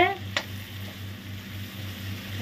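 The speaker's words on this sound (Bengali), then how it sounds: "এখন আমি হাফ চামচের মতন হলুদ ঢেলেছি, একটু নেড়ে দিব" Turmeric stirred into radish frying in a pan makes a soft sizzle with one sharp spoon scrape near the start, under a low steady hum, close and fairly quiet.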